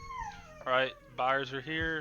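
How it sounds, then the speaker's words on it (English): A pet dog howls and whimpers in the background in a few rising, wavering bursts, partly under a man's speech. "If you can hear my dog in the background, I apologize."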